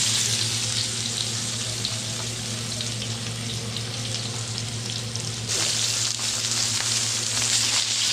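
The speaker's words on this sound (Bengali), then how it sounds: "মাছ ভাজা হয়ে গেছে" Tilapia fish frying in oil in a pan for a thin tomato curry, a steady broadband sizzle running continuously and close, with a water-like hiss that briefly grows louder near the end.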